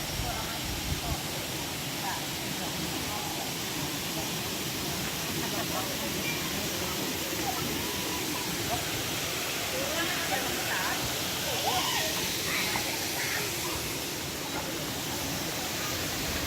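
Steady broadband rush of Air Terjun Mangkol, a waterfall in Indonesia where people bathe in the pool, filling the scene continuously and evenly without letup.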